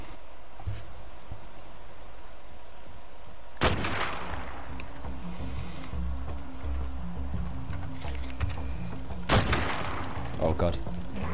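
Sniper rifle shots ring out in ARK Survival Evolved, two loud booming blasts several seconds apart with rumbling tails, set against steady game ambience and a person talking.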